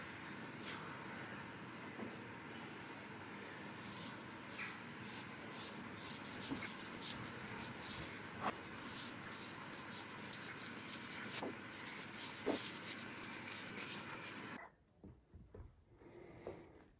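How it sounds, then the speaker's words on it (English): Steady rasping strokes of sandpaper on the wood of a 1930s Neindorf semi grand piano keyboard being turned into a coffee table, continuous and close for about fourteen seconds before stopping into near silence. "and starting to sand."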